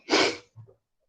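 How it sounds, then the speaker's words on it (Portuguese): One loud, close human sneeze bursts out, followed by a short, softer breath and then silence. "Peraí que eu vou espirrar."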